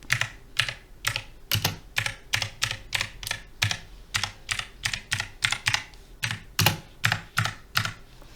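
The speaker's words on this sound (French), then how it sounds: "vous allez entendre plein de bruits de clics à chaque fois que vous allez toucher une touche" Logitech G512 Carbon mechanical keyboard with GX Blue clicky switches, typed on in a steady rhythm of sharp, crisp clicks heard up close, with no talking.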